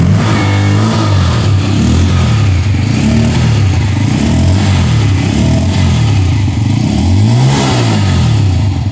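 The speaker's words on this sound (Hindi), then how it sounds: "अब इन दोनों की एग्जॉस्ट साउंड में डिफरेंस ढूंढने की कोशिश करते हैं। सबसे पहले यहाँ पर N160 की" Bajaj Pulsar N160 motorcycle exhaust, close and loud, idling with a deep bass rumble and repeated throttle blips that rise and fall, no talk over it.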